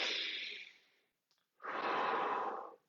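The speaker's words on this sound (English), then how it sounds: "just controlling your breathing" Slow, deep controlled breaths: a long airy inhale, a short pause, then a fuller, heavier exhale, close and alone.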